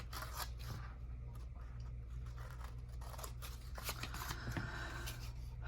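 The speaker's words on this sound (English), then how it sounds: "let's do a little bit of trimming again, as you see" Scissors snip repeatedly at close range while material for a book box is trimmed, quiet crisp cuts with papery rustles and scrapes between them, no talk.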